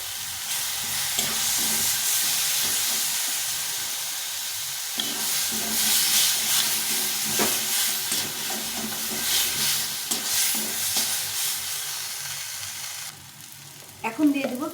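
A paste of ginger, garlic and green chili frying in hot oil in a pan, a steady close sizzle with occasional stirring scrapes, fairly loud and continuous, ending in a brief clatter.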